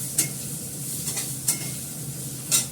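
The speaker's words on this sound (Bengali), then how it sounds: "ভালো করে ভাজা করে নিই" Food frying in a pan under a steady soft sizzle, with three or four brief scraping strokes of a utensil stirring it at roughly one-second intervals, close and clear.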